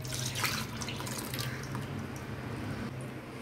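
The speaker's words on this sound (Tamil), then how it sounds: "கிரைண்டரில் கொஞ்சமாக தண்ணி ஊற்றி அலசி அதையும் ஊற்றிடுறேன்" Rinse water drips and trickles from a wet grinder, splashing softly and unevenly into a container of carrot batter for a few seconds, close by with no talking.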